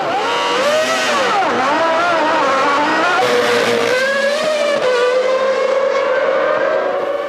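Formula 1 cars from the 1996 season accelerating out of the pits, loud high-pitched engine wails climbing and dropping through gear changes, one car close and dominant with others overlapping behind it.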